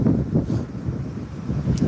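Wind gusts buffet the microphone on a wet, rainy outdoor nature walk, a steady low rumble that swells and eases in waves throughout, with no talking.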